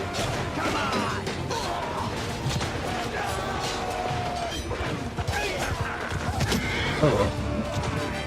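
A horse neighs amid a battle in the video game Bannerlord, with whinnies and clashing crashes and thwacks over a dense, continuous din, while players talk throughout.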